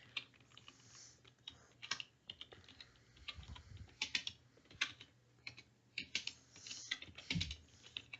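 Soft, close keystrokes on a computer keyboard while a comment is typed into a CSS stylesheet in a code editor, coming in uneven bursts and single taps against a quiet background hum.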